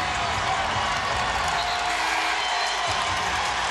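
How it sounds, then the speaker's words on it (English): A basketball arena crowd at an ACC women's college game, Miami against NC State, cheering and applauding as a dense, continuous roar that stays loud throughout. "look at the crowd on their feet"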